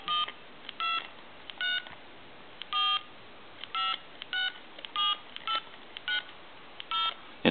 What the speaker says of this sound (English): I'm going to go ahead and dial some numbers